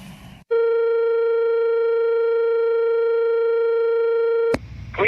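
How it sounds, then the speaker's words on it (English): A telephone line gives a steady, loud electronic tone for about four seconds after a brief muffled noise, then cuts off abruptly into a faint rustle. "Let me call Bonnie, see if I can solve this problem."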